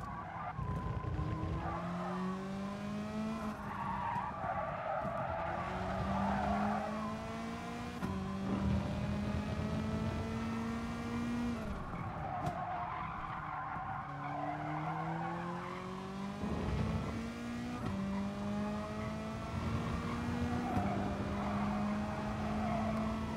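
A race car in the GT Sport video game shifts through gears with rising engine drones, then brakes into a final corner as tires squeal and skid, loud and continuous.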